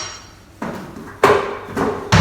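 A knife cuts the end off a butternut pumpkin on a board, giving three sharp, close thuds spaced roughly half a second apart.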